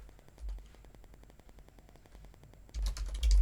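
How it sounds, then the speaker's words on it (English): Code being typed on a computer keyboard for Python Excel automation: a rapid, even run of light key clicks, close and clear, ending in a couple of heavier thumps. "Now we're going to type workbook.save."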